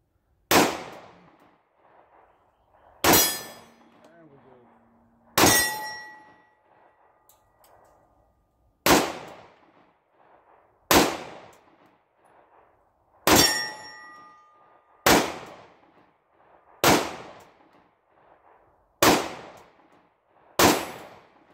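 Ten loud, sharp 9mm pistol shots from a PSA Dagger Compact firing Blazer Brass 124 grain full metal jacket rounds, fired one-handed at an outdoor range, spaced about two seconds apart, some followed by a ringing clang from steel targets.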